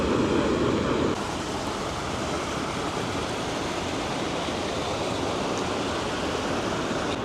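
Godafoss waterfall in Iceland roars in a broad, constant rush of falling water, loud and unbroken, with a brief heavier surge at the start before it settles into a steady wash.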